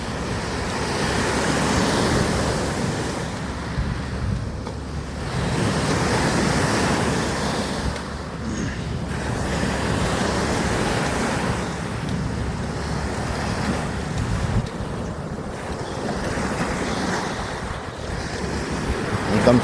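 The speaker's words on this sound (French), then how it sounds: "des vagues qui tapent sur le rocher, les bruits des vagues" Waves on Lake Garda crash and wash against rocks in a continuous surging roar, with rising and falling swells and heavy wind buffeting the microphone.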